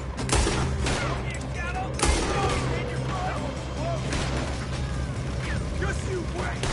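Gunfire in a PS4 video game: repeated sharp shots and bursts over a dense, steady mix of game sound effects, with voices talking through it.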